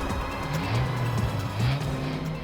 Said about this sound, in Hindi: एक मिनट सचिन, गाड़ी धीमी करो।